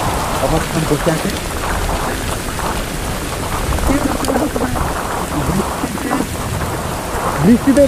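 Rain falls hard across a West Bengal village, a loud constant wash with deep thunder rolling beneath it and some splashy nearby drops.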